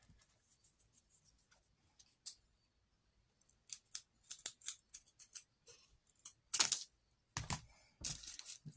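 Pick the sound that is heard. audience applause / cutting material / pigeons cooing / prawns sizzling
cutting material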